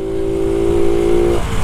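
A Honda Biz motorcycle with a slipping clutch, its engine holding a steady high revving drone up close for a moment before the pitch drops.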